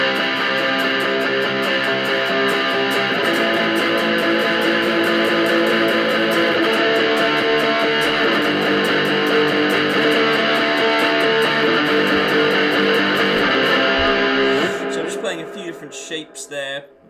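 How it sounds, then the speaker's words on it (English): A loud, dense electric guitar riff with a thick, distorted tone plays continuously, then breaks into choppier power-chord strums before cutting off; the intro of a song. "So we're going to break down the intro. A couple of electric guitar parts."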